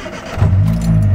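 A lowered car's engine runs close and loud with a deep steady rumble that swells slightly partway through, heard alone.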